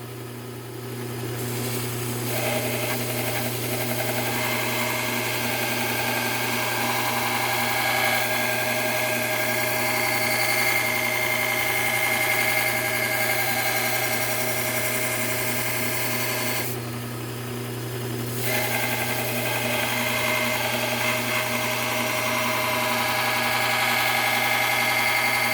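A belt grinder sharpens loppers and pruners, a steady loud motor whir with an abrasive hiss that runs continuously, briefly easing midway before grinding on, with no talking.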